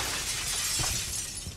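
Glass shatters in the Resident Evil 4 Remake video game, a dense crashing burst of breaking shards with scattered tinkling debris, loud and close with game background noise and no talk.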